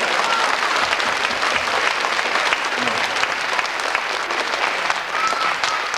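An audience at a folk music event in Grad claps steadily and loudly, a dense, sustained wash of applause with faint crowd murmur underneath.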